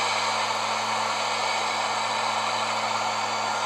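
A heat tool blowing hot air onto the wheel bearing bolts of a 2007-2012 Mazda CX-7, a steady close whooshing roar with a constant motor hum and no change in level.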